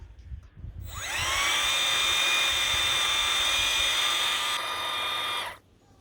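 An Ego battery hedge trimmer on its lowest 2,800 RPM setting spins up from quiet into a loud, high, steady whine with a bright tonal edge, holds for several seconds, then winds down abruptly, close and alone.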